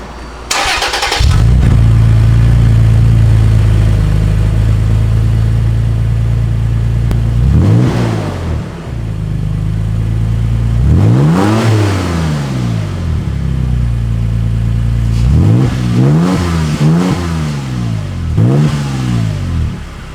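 A Toyota Tacoma with an aftermarket exhaust, heard from outside, starts up and settles into a deep, steady idle. It then gives several loud throttle blips that rise and fall, the last ones in quick succession, with no talk.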